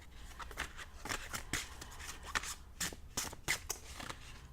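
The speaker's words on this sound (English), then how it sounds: "And I'm shuffling your cards" Tarot cards shuffled by hand for a Leo reading, a steady run of crisp riffling and slapping bursts close up, with no voices over it.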